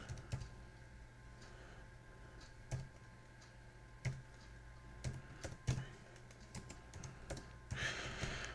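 Keys tapped on a computer keyboard while entering a command on a Raspberry Pi, heard as a sparse run of soft, close clicks and a few firmer keystrokes over a faint steady hum.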